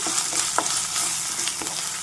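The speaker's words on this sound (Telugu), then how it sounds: "అటు ఇటు తిప్పుకున్నాను, కలిసిపోయింది." Cauliflower with turmeric stir-frying in a pan, a steady close sizzle broken by a few soft scraping stirs.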